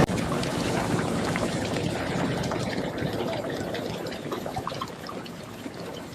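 Pumps draw water out of a sunken 100-ton fireboat in a flooded harbor, a steady, dense rushing and gushing roar that stays loud and unbroken throughout.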